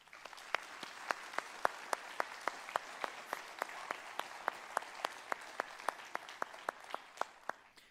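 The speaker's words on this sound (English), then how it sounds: "How about another round of applause?" A single person claps sharply and steadily at a sheriff's office awards ceremony, with crisp, evenly spaced slaps that are fairly close against a quiet room.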